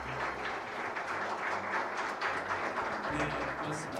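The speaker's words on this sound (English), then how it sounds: "We'd like to welcome with a big round of applause Dr. Thomas Habad" Audience applause at a forum on preventing financial crimes, welcoming a speaker to the stage: a steady, dense wash of clapping with a faint low hum beneath, continuing evenly throughout.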